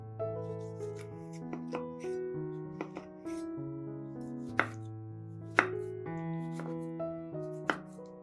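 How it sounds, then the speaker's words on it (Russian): A knife dices a small tomato into cubes on a cutting board, with a handful of sharp, close chops sounding under steady background music. "Один небольшой помидор нарезаем кубиками."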